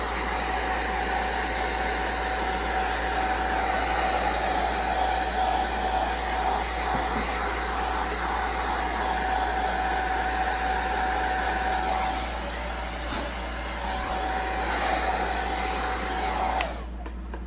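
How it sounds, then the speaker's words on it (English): Heat gun blowing over self-leveling epoxy resin on a lazy Susan: a loud, steady, close airy whoosh with a thin whine, easing slightly partway and cutting off near the end, no voices. "we'll go back in with our heat gun and make sure that it's flat"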